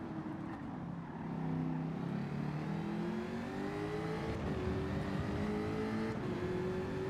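A race car in Gran Turismo 7 accelerating hard under full throttle, its engine note climbing steadily and loud for several seconds, alone without talk.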